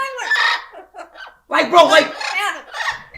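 Pet parrots scream in loud, harsh bursts of squawking, first one raucous call and then a longer cluster of overlapping shrieks close by.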